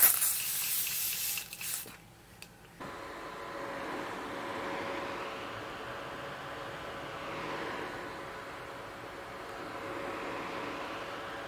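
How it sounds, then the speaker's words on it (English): Uriage thermal water misted onto a face from an aerosol can, a steady soft hiss that runs continuously at close range with no talking. "So to seal in that moisture, I'm going to use their infamous thermal water."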